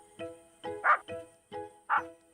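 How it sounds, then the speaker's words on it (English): A cartoon dog barks loudly up at a tree in a children's animated story, a series of short, clear yaps in pairs, close and distinct against a quiet background. "Snuffy carried on barking."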